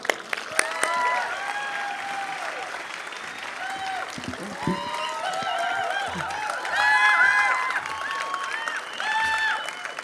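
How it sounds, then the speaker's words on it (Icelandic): An outdoor crowd of young people at Austurvöllur square applauds, scattered clapping and cheering that swells in the middle, with some voices and whistles mixed in. "Gefum þeim gott klapp."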